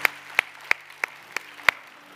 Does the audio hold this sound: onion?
no